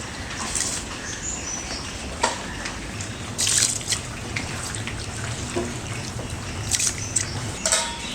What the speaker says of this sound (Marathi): आता हे जे तांदूळ आपण घेतले ते मी या पाण्यामध्ये घालतो